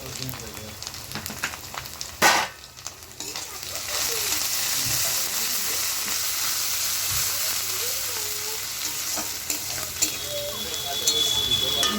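Turmeric masala frying in oil for a loach fish fritter curry, a steady close sizzle with stirring scrapes and a sharp clatter early on.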